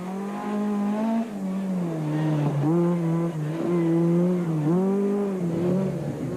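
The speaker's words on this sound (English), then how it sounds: "the sight and sound of a full-blown rally car driven by masters of their craft is something to behold" A full rally car, such as a Ford Escort at the 1998 Stannic Rally of South Africa, driven hard through tight corners, its engine note rising and falling in sustained loud revs with brief dips between gear changes, heard alone.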